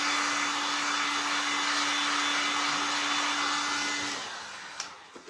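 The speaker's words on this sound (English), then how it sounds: "So you don't have to sit here and hold that dryer on it forever." A hair dryer blows hot air onto freshly applied paint, a steady close broadband whoosh with a constant hum that runs for about four seconds before cutting off, leaving a brief quiet tail with a couple of small knocks.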